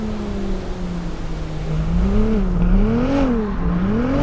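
Engine of a Ferrari 296 GTS, an 800-horsepower rear-wheel-drive car, revving and wavering in pitch as it slides, loud and close throughout with rising and falling surges.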